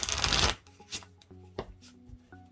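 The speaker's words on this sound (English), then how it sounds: "let me shuffle these real quick" A burst of tarot card shuffling riffles loudly, followed by several soft taps and slides of the cards being handled up close.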